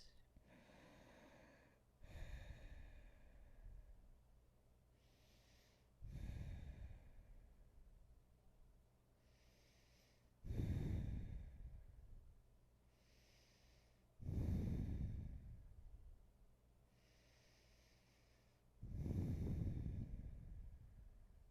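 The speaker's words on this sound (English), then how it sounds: "5 deep breaths." Slow, deep breaths during an Ashtanga yoga pose, five loud airy inhale-exhale cycles spaced a few seconds apart with quiet pauses between them, close and alone.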